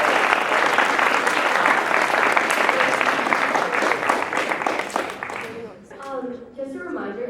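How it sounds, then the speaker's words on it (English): Loud audience applause at a freshman senator debate after a candidate's speech, a thick wash of many hands that thins into scattered claps near the end while a voice begins speaking over it. "if everyone could just please hold their applause until after the candidate is gone."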